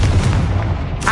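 A Confringo blasting spell bursts in the Hogwarts Legacy video game, a loud, dense boom sustained for about a second with a brighter crackle flaring at the end.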